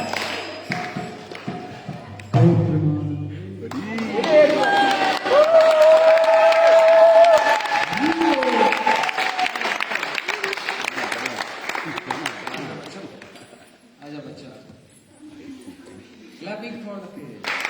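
Audience at a devotional retreat in Holland claps together after chanting, a dense, steady wash of applause that rises, holds, then thins out near the end, with voices and tonal singing mixed through it.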